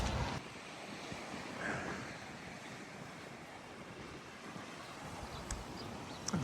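Surf and steady wind at Gulf Place beach, Santa Rosa Beach, a continuous faint wash of waves with wind rumbling across the microphone.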